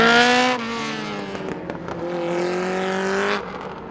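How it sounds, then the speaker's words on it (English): Inserted car sound effects play loud and alone: a revving engine with rising and falling pitch, a brief scraping break around the middle, then a long steady high-revving pass that cuts off near the end. "I will now insert car sounds."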